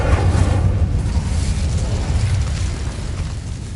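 An Incendio fire spell cast in Hogwarts Legacy, a loud, sustained whooshing rumble of flame with deep low-end roar, close and continuous, fading slightly toward the end.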